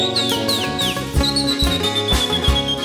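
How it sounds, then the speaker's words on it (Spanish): A person whistles a short melodic tune with sliding notes over background music with a steady beat. "Anda aprendiendo a silbar"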